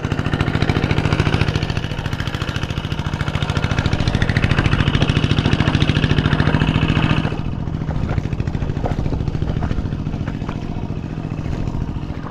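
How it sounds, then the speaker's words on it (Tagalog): An engine runs steadily with a rapid, rattling idle chug, loud and close, its tone thinning slightly partway through. "Umaandar naman yung makina doon,"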